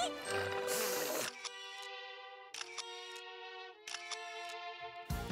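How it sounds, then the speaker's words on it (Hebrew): A camera shutter snaps a selfie in an animated children's show. A bright noisy burst is followed by repeated click-like onsets laid over ringing, chime-like musical tones. "כן, צילום סלפי!"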